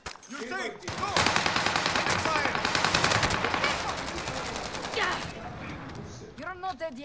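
Enemy gunfire in a video game, a loud, rapid automatic burst rattling for several seconds, with someone talking just before and after it.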